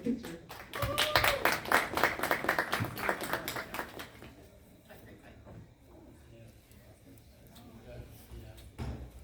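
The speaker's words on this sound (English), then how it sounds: "So let's just go ahead and give them a round of applause and we'll take a picture." Audience applause at a community education forum, a burst of clapping from a room of people for about four seconds, then fading to scattered claps, shuffling and quiet room noise.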